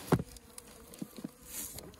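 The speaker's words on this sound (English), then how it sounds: "And so just push the bees back in." Honey bees buzzing at the entrance of a hive in late winter, a soft continuous drone with a few brief louder bursts, close and fairly faint, with no talk.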